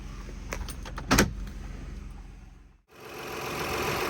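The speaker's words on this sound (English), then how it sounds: "here's the motor running" A Lexus from a salvage auction with its engine running: a low steady engine hum, a few clicks and a brief louder clatter early on, then a short cutout before the engine drone resumes.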